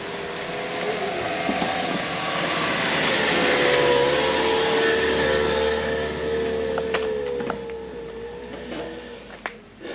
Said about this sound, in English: Hang on, car coming.